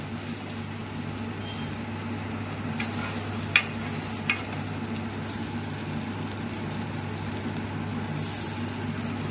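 Thin batter fries on a flat iron chatu over a low flame with a soft, steady sizzle that runs unbroken, and light scraping or stirring ticks come now and then.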